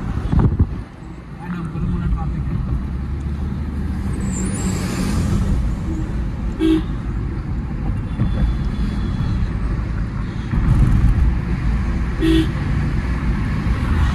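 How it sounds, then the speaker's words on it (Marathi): Continuous low rumble of dense road traffic with engines and passing vehicles, a brief hiss like an air brake, and voices talking over it. "बघू शकता, ट्रॅफिक फुल आहे या."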